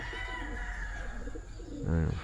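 Pigeons cooing at a racing-pigeon loft during a daily loft fly, a low throaty burst rising near the end over steady outdoor background noise.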